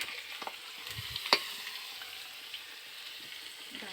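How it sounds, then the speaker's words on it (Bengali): Potatoes fry in oil for a country chicken curry, a soft, low sizzle running throughout with a few faint clinks and one sharper tap near the middle, close and quiet, no speech. "আলুগুলোকে ভালো করে লাল লাল করে ভেজে নিতে হবে।"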